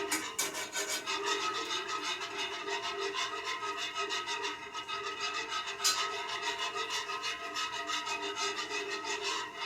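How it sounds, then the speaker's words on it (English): Steady scraping and rubbing of a whisk working a thick paste around a pan for mac and cheese, a continuous rhythmic rasp close up with no talking. "you continue to whisk until you don't see any more of the thick paste in chunky pieces"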